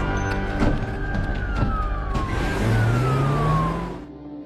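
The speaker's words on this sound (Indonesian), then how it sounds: "terdengar suara sirene polisi" A loud police siren wails with long gliding tones, sweeping downward in pitch over rumbling traffic before fading out at the end.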